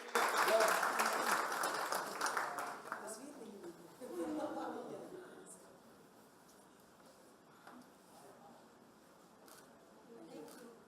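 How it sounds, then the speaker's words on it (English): An audience at a talk breaks into loud, dense applause that starts at once, holds for a few seconds, then thins and fades into scattered claps and low murmuring. "a big round of applause, please"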